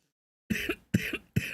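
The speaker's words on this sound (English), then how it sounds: "Were you checking on me because I'm coughing?" Three sharp, close coughs in quick succession, each a harsh burst with a short rasping tail, after a moment of silence.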